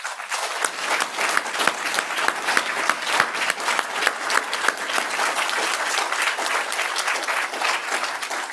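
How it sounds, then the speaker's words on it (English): Loud, close applause from a conference audience at a closing ceremony, many hands clapping in a dense, even roar that holds steady throughout. "I want to do a big round of applause for Christophe's work"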